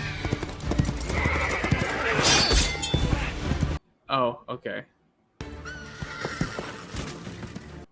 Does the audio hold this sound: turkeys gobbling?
no